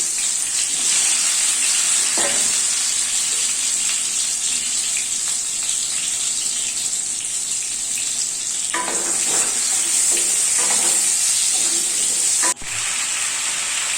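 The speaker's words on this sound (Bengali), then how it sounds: "আলুগুলোকে একটু লাল লাল করে ভাজতে হবে।" Potatoes coated in salt and turmeric fry in hot mustard oil in a kadai, a constant bright sizzle with occasional stirring scrapes and a sharp clack near the end, no talking.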